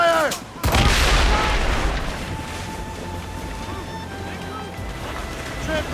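Ship cannon fire from a naval battle in the video game Assassin's Creed Rogue: one loud, heavy boom, then a sustained rumbling roar of battle and sea noise.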